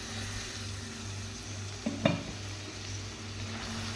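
Peas and potatoes being stirred into cooked masala in a pan, with a brief spoon scrape and clatter midway over a low steady background hum; no talk.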